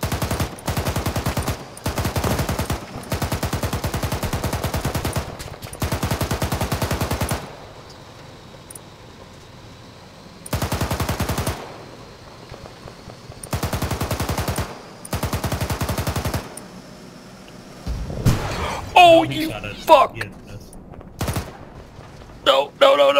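Bursts of rapid automatic gunfire in a video game, loud repeated volleys broken by short pauses, some players shouting over the shooting.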